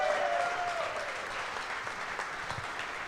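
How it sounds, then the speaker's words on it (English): A crowd at a live club event with a former Packers quarterback gives steady applause for about three seconds. The clapping is even and moderately loud, with a brief voice over the start. "a round of applause for the Magic Man tonight?"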